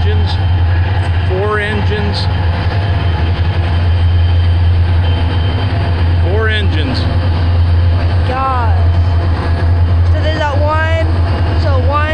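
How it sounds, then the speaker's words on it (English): A Union Pacific freight train pulled by several locomotives passes with a loud, continuous rumble and rattle. Voices are heard briefly over the noise. "So they got one engine, two engines, three engines."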